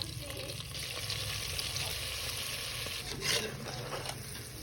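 Chicken feet fry in hot oil in a pan, giving a steady, dense sizzle and crackle that runs close and unbroken throughout, with a faint voice at times underneath.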